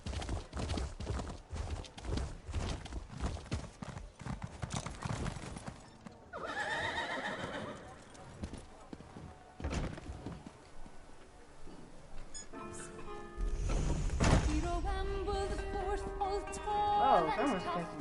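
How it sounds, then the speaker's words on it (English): Draft horses in the video game ESO: hooves clip-clop in a steady trot while several loud whinnies and neighs ring out, with game effects and a voice talking over parts of it. "most of these horses are draft horses, which means they're fairly huge"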